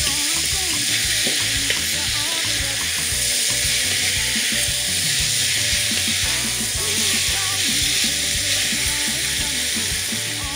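Onions browning in a hot pan for an oxtail curry: a steady, loud sizzle and crackle of frying with occasional stirring scrapes, going on continuously throughout.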